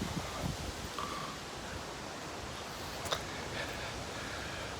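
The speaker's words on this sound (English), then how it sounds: "it is flipping windy" Strong wind blows outdoors as a continuous broadband roar and rustle, buffeting the microphone with a few faint brief sounds mixed in.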